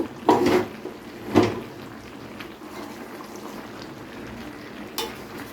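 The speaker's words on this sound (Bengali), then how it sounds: "এইবারে আমি পুঁই শাকটাকে সবজির সঙ্গে ভালো করে মিশিয়ে নেব" Malabar spinach being stirred into vegetables in a pan for a fish-head chhyachra: a soft, ongoing sizzle broken by a few louder scraping strokes of a spatula.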